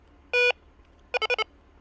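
A FLACARP SOLUX solar-panel electronic fishing bite alarm beeps: one clear tone, then a quick run of four shorter beeps, loud and near.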